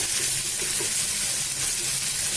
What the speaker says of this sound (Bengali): পেঁয়াজের ভিতরে একটু লবণ দিয়ে দিলে কি হয়, তাড়াতাড়ি পেঁয়াজটা ভাজা হয়ে যায়।